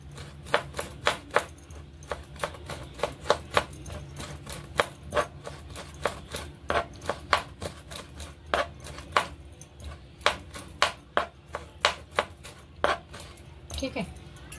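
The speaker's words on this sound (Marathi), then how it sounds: "हे अद्रक सुद्धा मी बारीक चिरून घेते" Ginger chopped finely with a knife on a board, a fast close series of sharp, even knocks repeating for many seconds, with quiet talk underneath.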